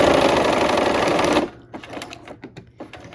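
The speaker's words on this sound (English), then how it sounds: "I'm going to go ahead and sew these 2 seams" A sewing machine runs in a fast, loud, steady stitching burst while sewing fabric seams, then stops after about a second and a half, leaving soft handling clicks.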